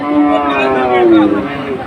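At a cattle market in Chattogram, a cow lets out a loud, close, sustained moo that fills the whole moment, with faint crowd noise underneath.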